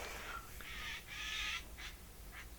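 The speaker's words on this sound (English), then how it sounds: "there's a bird outside the window." A bird squawking outside a window gives several harsh, crow-like caws in short bursts. They sound moderately distant and are spaced unevenly over a faint steady background.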